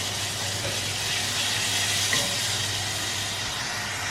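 Ginger garlic paste fries with onion, tomato and chilli in a pan while preparing mutton soup, giving a steady close sizzle and hiss throughout.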